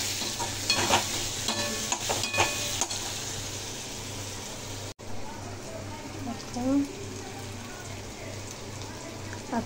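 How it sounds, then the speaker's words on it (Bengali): Fish curry with tomatoes being stirred in a hot pan, a steady sizzle and frying hiss with scraping stir strokes throughout, and someone talking over the cooking. "আর টমেটো দিয়ে ভালো করে নাড়াচাড়া করবো"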